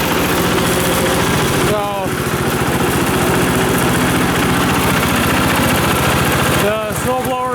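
The Bolens H14 garden tractor engine runs loud and close after a jump start, a steady throbbing idle, briefly overlaid by a couple of short tonal sounds.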